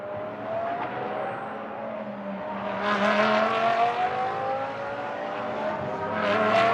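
GT race cars, including a WRT Audi and an Attempto Porsche, during free practice at Moscow Raceway, engines droning past at a distance with rising revs and a louder pass near the end.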